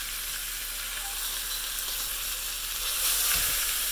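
Pork sears in an enamel cast iron Dutch oven, giving a continuous loud sizzle and crackle of fat frying, close up and steady, swelling a little near the end.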